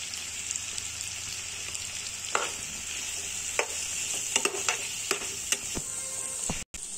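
A pot of sambar is stirred with half a spoon of turmeric powder, giving a steady, soft sizzle with a few clear scrapes and clinks of the spoon against the pot, close and without speech.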